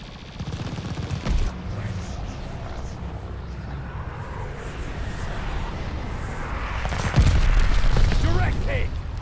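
A bombing run in the Call of Duty Vanguard multiplayer game brings loud continuous rumbling gunfire and heavy blasts, swelling near the end, with voices talking over the din.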